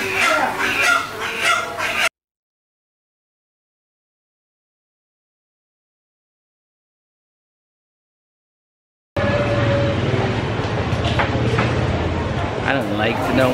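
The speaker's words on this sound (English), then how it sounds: "Preparing live chickens behind me." Live chickens cluck at a Chinatown market in Kuala Lumpur, Malaysia, a busy mix of fowl noise and crowd bustle, with a long silent gap in the middle.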